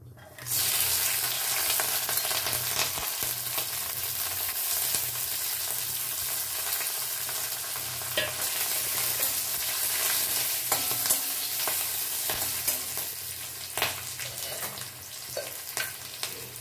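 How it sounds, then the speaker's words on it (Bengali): Whole cumin, two bay leaves, cinnamon, dried red chillies and green chillies tempering in hot oil for a bottle gourd and red lentil dish, a steady close sizzle and crackle running throughout with occasional stirring clinks. "আর এই যে আমি এই সাদা জিরে, 2টো তেজপাতা, আর এই যে দারচিনি, শুকনো লঙ্কা, কাঁচা লঙ্কা, এটাই এখন আমি এতে সম্বরা দেব।"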